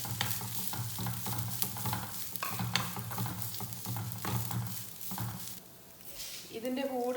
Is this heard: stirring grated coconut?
yes